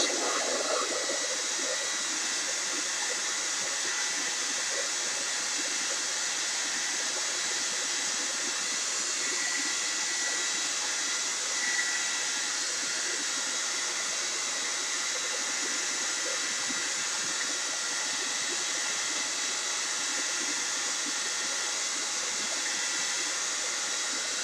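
A heat gun serving as a blow dryer runs on a painted canvas, giving a loud, steady blowing roar and hiss that continues unbroken throughout, with no talk.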